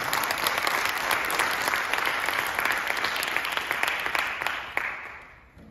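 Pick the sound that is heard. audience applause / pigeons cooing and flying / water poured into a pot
audience applause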